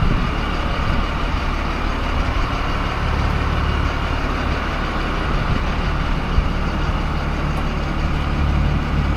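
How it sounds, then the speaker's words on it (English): A truck engine idles steadily and loudly, a continuous low rumble with no breaks, in an outdoor setting where a D9 bulldozer sprocket is being installed. "Let me shut the truck off for a minute."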